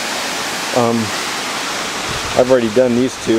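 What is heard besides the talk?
waterfall on Lytle Creek middle fork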